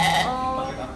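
A sheep bleats close by in a single drawn-out call on a farm, with a faint voice of someone talking behind it.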